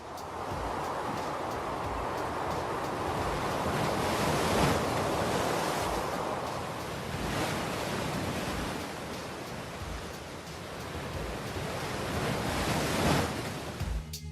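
Huge winter ocean waves over six metres high crash and roar in a continuous thundering wash of surf, with surging peaks as each breaker hits, loud and steady with wind buffeting the microphone.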